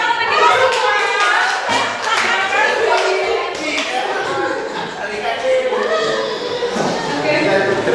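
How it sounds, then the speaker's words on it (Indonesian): A school group claps hands together in a classroom, brisk uneven applause with chatter, laughter and children's voices mixed throughout. "tepuk tangan untuk kita semuanya"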